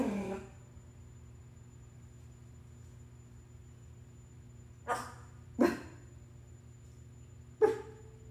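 A parrot at the Nauti Parrot in Fort Myers, Florida, imitates a dog barking. Three short, loud barks stand out after a quiet stretch with a low background hum.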